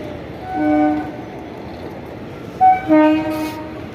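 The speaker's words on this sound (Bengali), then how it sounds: "এই হচ্ছে এটা Asansol Sealdah intercity superfast express." An Asansol-Sealdah Intercity Superfast Express train at Dum Dum station sounds two loud, sustained horn blasts, the second coming after a short gap, over the steady rumble of the passing train.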